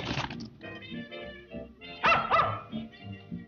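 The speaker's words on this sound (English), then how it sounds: "There's a good dog." A dog barks and yips in a few short bursts mid-scene in an old film soundtrack, moderately loud against faint background sound.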